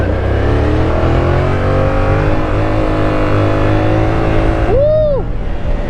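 Sport bike with no front wheel revving hard and loud during a wheelie, a steady high-pitched engine drone close by, with a short squealing tone near the end.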